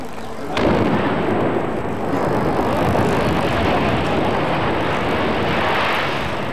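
A demolition charge brings down an old telecommunications tower in Münster in 1993: one sharp blast, then a loud, broad rumble of the collapse that holds steady for several seconds.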